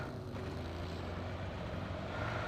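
A vehicle in the BGMI mobile battle game drives along with a steady low engine rumble and rough mechanical noise, fairly quiet and continuous.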